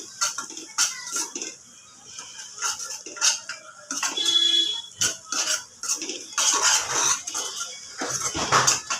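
Curd being stirred into food in a pan, with a spoon scraping and clattering against the metal in quick, irregular strokes, close and fairly loud throughout.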